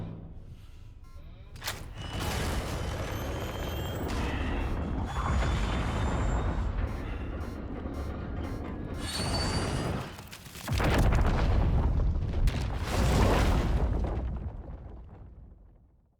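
A massive explosion tears apart the Lazarus pit in a Batman video game, a sustained roaring blast with rumbling debris that rolls on for many seconds, briefly dips, then surges again before fading out.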